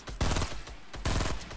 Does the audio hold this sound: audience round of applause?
no